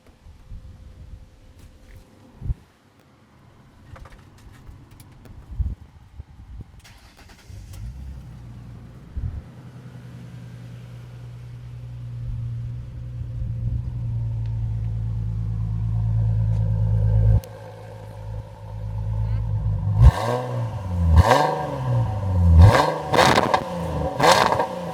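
2007 Ford Mustang Premium V6 cranks and fires, then settles into a steady low idle rumble that builds over time, followed by several sharp revs near the end. Close and loud, with no talk.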